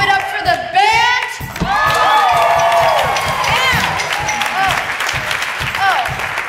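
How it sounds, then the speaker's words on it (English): An audience at a Fieldston school winter musical claps and cheers for the band, rising from scattered whoops and shouts into steady applause, with excited voices and squeals ringing over the clapping. "Can we give it up for the band?"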